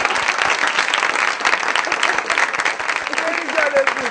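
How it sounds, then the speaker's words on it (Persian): Studio audience clapping on an Iranian TV comedy show, steady and crisp with sharp claps, while people talk over it toward the end. "میخوای دماغت رو تشویق کنی؟"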